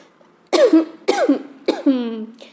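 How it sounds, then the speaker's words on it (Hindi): Three sharp, spasmodic coughs in quick succession, each a harsh burst trailing into a raspy, voiced tail, close and loud. "ऐसे खांसी आएगी"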